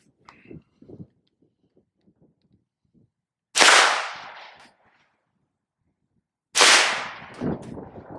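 A Wilson Combat AR9 carbine fires Federal 115 grain +P+ ammunition: two loud, sharp shots about three seconds apart, each followed by a short echoing tail, with faint small clicks and handling noises before them.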